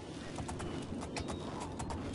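Horse hooves clop in Oblivion, a quick run of soft, muffled beats over a steady low background rumble at modest volume.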